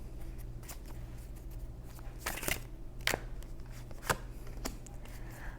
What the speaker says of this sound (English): I can tell by the way these cards are shuffling here.